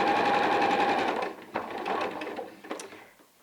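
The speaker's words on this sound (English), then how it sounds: "So let me get started sewing" A domestic sewing machine stitches a fabric pillowcase, a steady close whirring hum with rapid needle chatter for about a second and a half, then slowing into softer intermittent clicks and handling noises.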